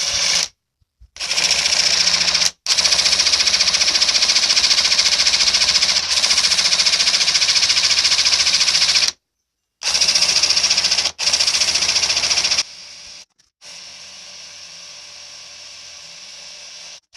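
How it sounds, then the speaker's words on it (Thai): AEG impact wrench drilling into a workpiece, a loud, steady high-pitched whir running in long bursts with brief stops between them, then ending on a quieter stretch. "ก็เจาะได้ครับแต่แกว่งมากลำบาก"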